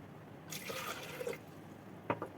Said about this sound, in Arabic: هنحط كوبايه الميه